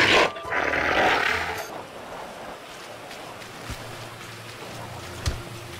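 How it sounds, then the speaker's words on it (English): A Sasquatch roar in a video game: one loud, harsh, breathy bellow lasting about a second and a half, then fading into a low, windy ambience with a couple of faint distant thumps. "if you let out your Sasquatch roar in the right spots, you'll hear howling from none other than Teen Wolf."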